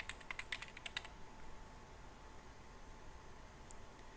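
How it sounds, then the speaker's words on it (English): Quick run of close computer keyboard keystrokes typing a word, about a second of crisp clicks, then quiet room hiss with one more faint click near the end, no talking. "So I will simply type in Formation."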